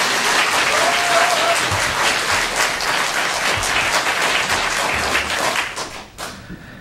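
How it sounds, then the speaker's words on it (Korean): Sustained applause from a church congregation, dense and steady clapping that fills the room for several seconds before thinning out at the end, with a brief voice rising over it early on. "다시 한번 박수를 크게 쳐주면 감사하겠습니다."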